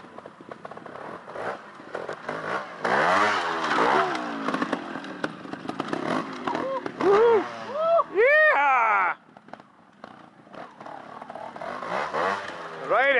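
A trials motorcycle picks its way through a section at a two-day trial in the Lakes, its engine blipping and revving in short rising bursts near the listener, with spectators calling out over it.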